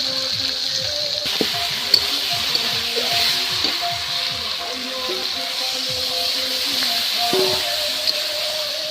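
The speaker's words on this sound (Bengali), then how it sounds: "আর মাংস রান্না করার আগে এই যে বড় বড় আলু শাকের ডেটা নিয়েছি না, এটা একটু হালকা করে ভেজে নেব।" Large potato-greens stems lightly frying in hot oil, a continuous close sizzle with scattered pops and crackles, while faint background voices talk intermittently.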